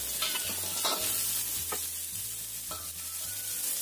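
Garlic, ginger and chili sauté in a hot pan with a steady sizzle, broken by regular scraping strokes of a spatula about once a second, close up and without any voice.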